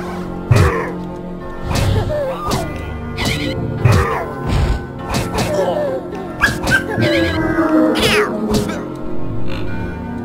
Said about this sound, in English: And that guy is spawning cats!